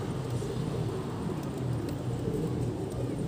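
Pigeons coo softly amid a dense, even background hum during night flying training, the calls faint and blended into steady ambient noise with no talk.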